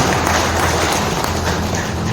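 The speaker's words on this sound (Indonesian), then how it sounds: "tepuk tangan untuk kedua-duanya" Audience at an organisational founding event in Bogor clapping loudly and densely, a continuous close wash of many hands with no break across the short stretch.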